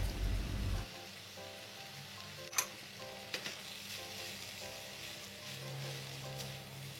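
Rice vermicelli stir-fried with cabbage and spring onion in a pan gives a soft, steady sizzle, broken by a few sharp clinks and scrapes of stirring, with no talking.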